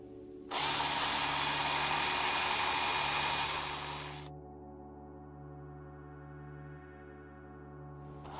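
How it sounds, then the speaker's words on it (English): A small high-pitched drill with a bit made from a coat hanger whirs loudly for about four seconds punching holes in a silicone mold, then stops, leaving a low hum before a brief burst resumes at the end. "So we just got a little drill made out of a coat hanger here."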